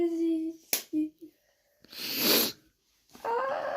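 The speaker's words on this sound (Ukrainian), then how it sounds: "Я постійно чихаю, чихаю і сльози з глаз йдуть." A person with a cold sneezes loudly and close up, a sharp burst in a quiet room at home, with short breathy sounds and brief vocal noises before it and another exhalation after.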